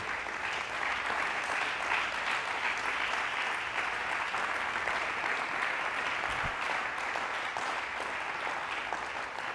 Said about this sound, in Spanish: Dale un aplauso al Señor, Él se lo merece.